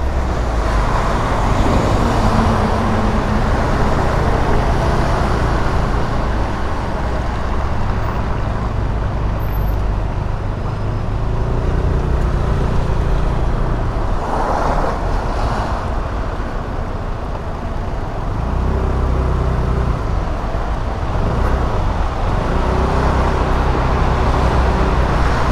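A car driving through traffic, with a continuous low engine rumble and road noise close up, steady throughout with slight swells as it moves.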